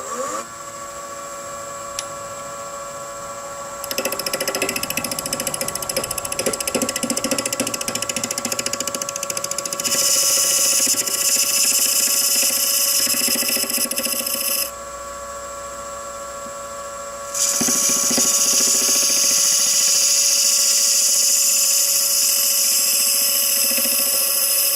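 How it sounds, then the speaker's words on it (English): Half-inch scraper taking dried epoxy off a maple salt box spinning on a wood lathe, a steady motor hum with tonal whine broken by louder scraping stretches, close and continuous without talk. "The epoxy has had time to dry now, so I'm going to go ahead and take that off with a 1/2 inch scraper."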